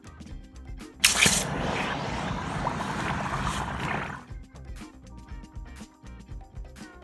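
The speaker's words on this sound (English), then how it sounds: "Plunge the flask into a bucket of water a few seconds after the red glow has gone from" A hot investment-casting flask, just past red heat, is plunged into a bucket of water, setting off a sudden loud hiss and bubbling boil that churns steadily for about three seconds before dying away.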